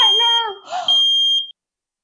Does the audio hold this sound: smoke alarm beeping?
yes